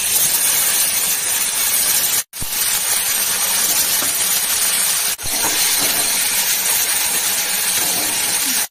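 Cumin seeds and chopped green chillies sizzle in hot oil for an egg chachchari, a loud continuous frying hiss broken twice by brief silent gaps.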